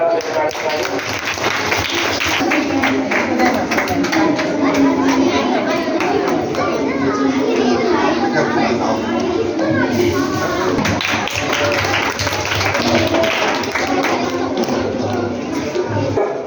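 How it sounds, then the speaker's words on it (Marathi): An audience at a school literary festival applauding: dense, loud, sustained clapping from many hands with children's chatter and crowd murmur mixed in, lasting throughout. "जोरदार टाळ्यांचा"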